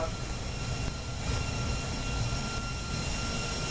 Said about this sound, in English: The turbines are speeding up.